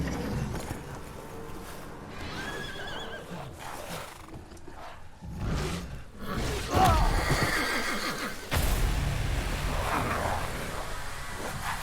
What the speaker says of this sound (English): Now they're riding horses.